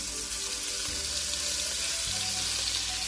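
Beef cubes browning in batches in an uncrowded pan for boeuf bourguignon give a steady, dense sizzle that runs evenly throughout, close and fairly loud, with no talking.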